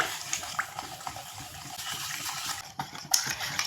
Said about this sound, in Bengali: এখানে আমি আবারও জল দিয়ে দিচ্ছি জল দিয়ে একটা পাতলা বেটার বানাতে হবে